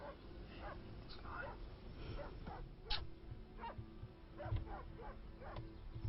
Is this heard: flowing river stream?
no